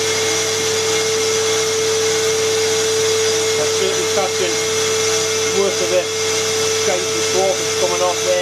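A vacuum motor whines steadily and loudly during machining of brake drums, holding a constant hum, while a voice talks intermittently beneath it.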